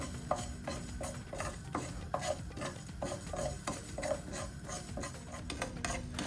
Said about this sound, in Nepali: यी सबै मसलाहरू राखिसकेपछि ग्यासलाई अन गर्ने अनि यो मसलालाई भुट्नुपर्छ।